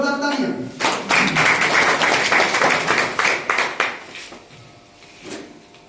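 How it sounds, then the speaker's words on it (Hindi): Audience at a public health-awareness gathering breaks into loud applause for a guest invited to the stage, a dense burst of clapping that swells quickly and then thins out toward the end. "जोरदार तालियां"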